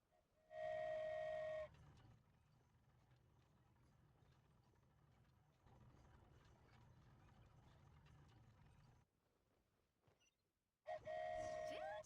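The flying train in Genshin Impact departs, two loud whistle-like blasts at the start and end, with a low rumbling ride in between.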